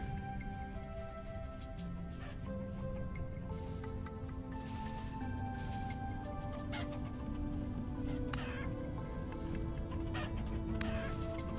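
Chickens cluck in the video game Vintage Story, several birds near a survival base, their short clucks and calls repeating over a steady dense background of game ambience and music.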